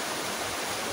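River water flows in a steady, even rush of close broadband noise, with no voices over it.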